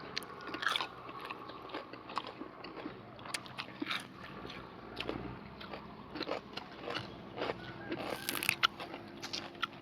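Crispy fried June beetles eaten with spicy papaya salad produce close, repeated crunching bites and chewing in irregular bursts, with faint scraping in the background and no talk.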